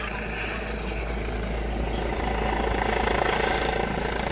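Helicopter flying low over the Harz mountains near megalithic rock formations, a loud continuous rotor thump and engine roar swelling slightly as it nears, with a voice talking briefly.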